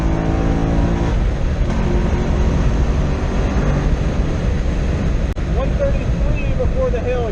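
A Corvette C6 Z06's LS7 V8 roars loud and close on a race track, with a quick gear change early on and then sustained hard acceleration. The engine note rises over a steady, heavy drone.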